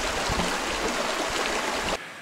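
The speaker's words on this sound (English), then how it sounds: "Now we're at a waterfall" A waterfall on a rocky creek in remote Opasquia Park roars with a dense, steady rush of falling water, loud and close, before cutting abruptly to quieter ambience near the end.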